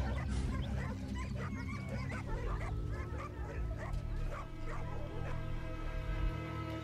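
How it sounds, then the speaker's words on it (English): Hunting dogs in a winter wild boar driven hunt in Bulgaria, giving repeated yipping barks and whimpers at a moderate distance, several dogs overlapping against a steady outdoor rumble. "Drivers and dogs slowly but steadily approach the location of the fleeing animals."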